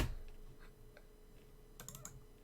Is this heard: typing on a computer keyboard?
yes